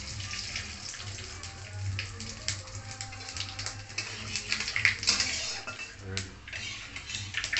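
Five-spice seeds tempering in hot oil in a karahi, a close, uneven sizzle with crackling bursts and a few metallic clinks of a utensil against the pan.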